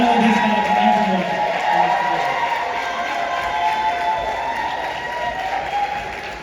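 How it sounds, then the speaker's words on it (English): A pageant audience breaks into loud, sustained applause mixed with cheering, a dense wash of clapping that holds steady for several seconds and slowly tapers toward the end. "please, the loudest round of applause for this group"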